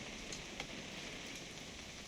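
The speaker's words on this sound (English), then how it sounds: "It's gonna rain the whole weekend" Rain falls steadily in the video game What Remains of Edith Finch, a soft, even hiss of drops on surfaces with a few faint taps, quiet and constant, with no talk.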